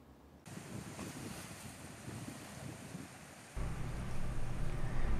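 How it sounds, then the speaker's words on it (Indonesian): Sea waves and surf on the south coast of Java during rough weather with two-metre swells, a continuous roar of wind-blown water that grows louder and heavier partway through, with no voices. "ombak di Laut Pantai Selatan Jawa mencapai ketinggian 2 meter"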